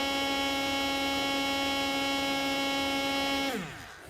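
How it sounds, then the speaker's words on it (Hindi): A small 12-volt electric motor spinning at high speed gives a loud, steady whine with strong harmonics that holds for several seconds and then winds down in pitch as it stops. "तो पहले हम इस मोटर के आरपीएम को चेक कर लेते हैं।"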